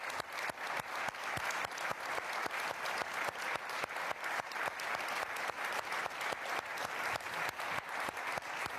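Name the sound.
audience applause at a conference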